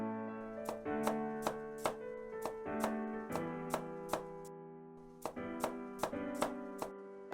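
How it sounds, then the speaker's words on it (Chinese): A knife slices peeled garlic cloves on a cutting board, making sharp, evenly spaced chops at a steady rhythm with a short pause midway, heard over tonal background music. "我们将其放在案板上，然后将蒜头切成片"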